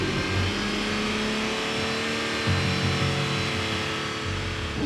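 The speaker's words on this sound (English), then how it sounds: "Now let's see how loud this beast is." A car engine revs and holds at high speed for several seconds during a roadside noise test, a loud, steady mechanical roar with slight rises and dips in pitch.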